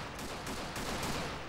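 Cannon fire in the World War I strategy game Men of War: Great War during a trench assault: several sharp, fairly faint booming reports spaced a few tenths of a second apart over a rumbling battlefield, with no talking.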